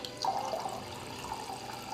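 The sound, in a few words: waterfall water spilling in airport-building video game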